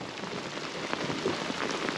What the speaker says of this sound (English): Absolutely belting down rain.